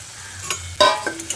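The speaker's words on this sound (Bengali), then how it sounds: "ভাজা কচুগুলো দিয়ে মশলার সঙ্গে খুব ভালো করে নেড়ে চেড়ে মিশিয়ে নিতে হবে" A spoon stirs fried taro into spice paste in a pan with a few scraping strokes over a soft, steady sizzle of frying.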